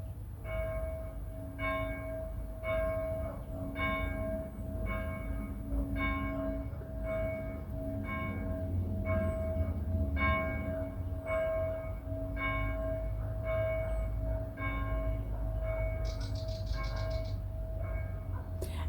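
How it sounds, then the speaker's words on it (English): Church bells ring on a morning, a steady repeated clang with a long resonant hum beneath, heard at a moderate distance over low outdoor rumble for the full stretch. "was just listening to some of the church bells this morning"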